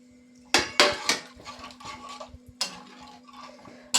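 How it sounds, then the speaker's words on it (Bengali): Water poured into a pan of Bengali-style grass carp fish curry, a few sharp splashes and clatters at the start, then softer trickling and stirring sounds over a steady low hum, with another brief splash near the end. "আরও একটু জল দিয়ে দিচ্ছি।"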